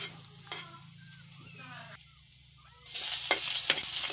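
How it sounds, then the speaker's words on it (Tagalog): Garlic sautéing in a home-kitchen pan, a soft sizzle with occasional stirring scrapes that swells into a louder, bright frying hiss near the end; no talking. "Gisa natin ang bawang."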